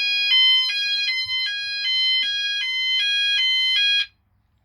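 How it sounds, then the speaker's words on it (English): An E.M.S. FirePoint System 5004 fire alarm in full alarm condition, loud repeating two-tone electronic sounder pulsing in an even rhythm of about ten cycles, alone, with a faint low rumble beneath, stopping abruptly. "that creates a full alarm condition."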